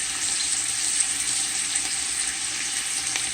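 Smoked turkey wings and ground jalapeños sauté together in a pot, a constant bright, hissing sizzle that stays close and steady throughout, with no voices.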